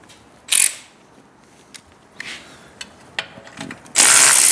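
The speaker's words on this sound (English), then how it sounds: "Loosen that 10 millimeter socket." Ratcheting wrench and 10 mm socket loosening a bolt on a Triumph Speed Twin 1200 stock muffler, with short whirring bursts, scattered clicks and knocks, and a louder burst at the end.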